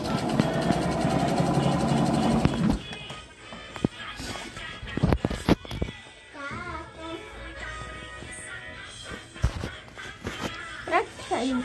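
Sewing machine stitching fabric, a steady fast whirring run for the first few seconds, then stopping as people talk with scattered handling clatter nearby.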